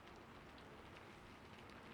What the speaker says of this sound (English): it was my plan all along to sit by a window and enjoy the rain